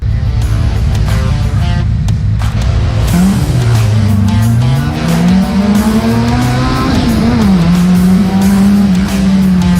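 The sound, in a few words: stock cars racing at Cowdenbeath Racewall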